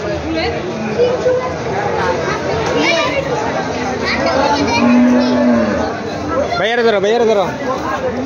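Cattle moo loudly and repeatedly amid a busy crowd at a Qurbani livestock market, with people chattering and calling close by throughout.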